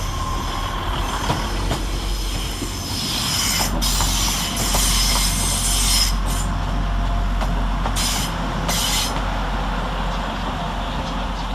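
Class 150 unit 150 108 pulls out of Manchester Piccadilly on a Northern service to Chester, a steady loud rumble of engine and wheels with intermittent high wheel squeals and rail clatter, no talk.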